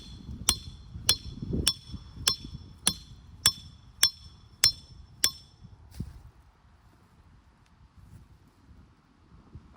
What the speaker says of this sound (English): it looks like I'm gonna have to hammer it in.